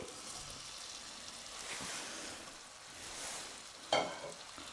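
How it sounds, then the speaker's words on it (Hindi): Masala paste for a cauliflower and green pea curry stir-fried in a pan over high flame, giving a steady broadband sizzle with a sharp clatter of the spoon near the end and no talking. "इसको भी हम हाई फ्लेम पर 1 से 2 मिनट तक भूनेंगे"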